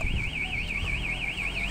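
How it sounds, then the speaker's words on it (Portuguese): A motorcycle alarm siren wails in a steady, fast up-and-down warble, loud and close, sounding alone without any voices. "O alarme gritando e a seta"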